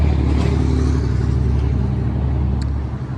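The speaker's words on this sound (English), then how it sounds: "Sorry for the traffic noise." Steady low rumble of road traffic, a continuous wash of passing cars close by, with no voices.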